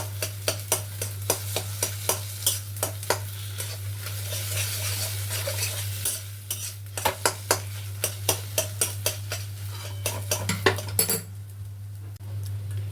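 A utensil scrapes and stirs through something frying in a pan in steady, repeated strokes over a constant low hum.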